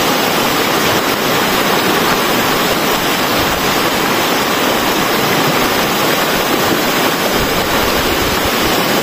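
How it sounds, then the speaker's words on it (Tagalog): Strong wind in Benguet roars steadily like crashing sea surf, a loud, unbroken broadband rush with no voices. "Oh, wow, sabay pa yung hangin ba? Parang ano na, dagat."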